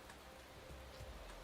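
Light drizzle falling in the Motorsport Manager racing game, a very faint, even patter of rain that continues without a break.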